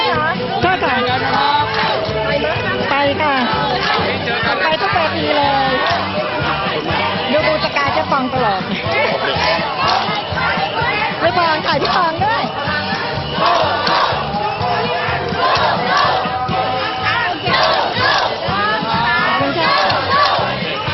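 A large crowd of supporters on a PDRC street campaign march in Thailand cheers and shouts continuously, loud and close, with chatter and voices mixed through the whole stretch.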